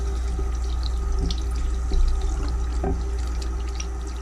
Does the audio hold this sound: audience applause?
no